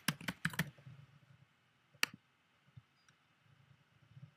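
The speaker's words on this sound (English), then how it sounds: "enter your root password" A computer keyboard is tapped as a root password is entered on a Mac, with a quick flurry of soft keystrokes, then a single louder key press after a pause, all close and quiet in an otherwise hushed room.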